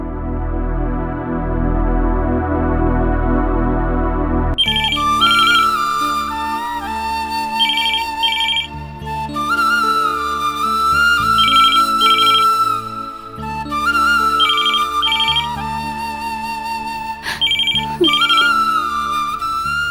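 A phone ringtone plays loudly and steadily after a short sustained tone, its electronic melody repeating in regular bursts for the rest of the stretch with no talk over it.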